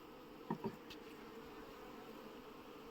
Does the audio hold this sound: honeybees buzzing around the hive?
yes